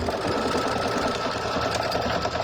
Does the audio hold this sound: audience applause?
no